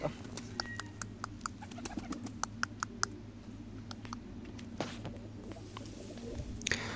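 Pigeons in a home loft coo and call in short repeated bursts over a steady low background hum, the calls fairly faint and spaced unevenly through the scene with no talking.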